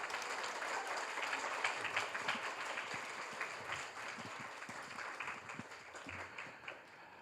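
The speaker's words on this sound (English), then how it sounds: "Please join me giving them another warm round of applause." A conference audience applauds warmly, a dense, steady patter of many hands clapping at moderate distance that eases slightly toward the end.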